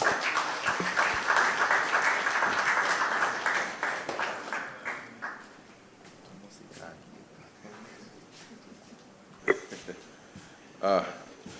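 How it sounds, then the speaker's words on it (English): Audience at a farmers' appreciation and awards ceremony gives a round of applause for a senator, a strong sustained clapping that fades over several seconds, followed by quieter room sounds, scattered claps and a person speaking. "Give him a round of applause."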